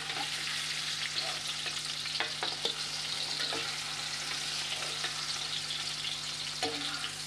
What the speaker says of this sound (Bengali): গ্যাসের ফ্লেম বাড়িয়ে দিলাম, বাড়িয়ে দিয়ে এটাকে আমি ভালো করে একটুখানি সাঁতলে নেব বা ভেজে নেব